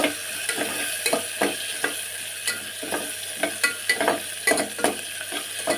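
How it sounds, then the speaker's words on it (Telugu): Onions with salt sauté in a pan, a steady soft sizzle broken by regular scraping stirs of a spoon, close and unaccompanied by talk. "ఉప్పు ఇప్పుడు ఇలాగే మగ్గుతాయి ఉల్లిపాయ మగ్గుతాయి"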